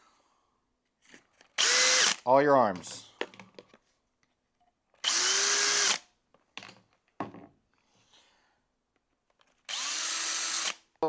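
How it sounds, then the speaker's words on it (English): A power drill whirs in three loud bursts separated by pauses, drilling through hinge pin parts of a Traxxas X-Maxx 8S RC truck, with clinks and handling noises between them and a brief spoken phrase. "grab your drill bit and you're going to go ahead and drill through"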